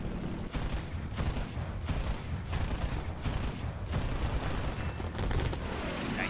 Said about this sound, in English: Some sort of heavy Italian AA, I think. Or is it Swedish? It's very slow firing. Maybe it's the Bofors.